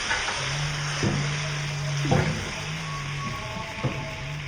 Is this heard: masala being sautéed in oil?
yes